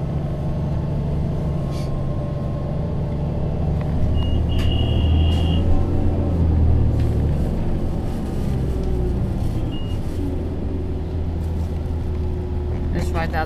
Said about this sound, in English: this bus sounds different than the other one we rode